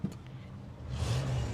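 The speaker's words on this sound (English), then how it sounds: "Can you rev the engine for me?" A 1958 DeSoto Fireflite's engine idles low and steady, then swells into a brief rev that builds toward the end, heard close and alone.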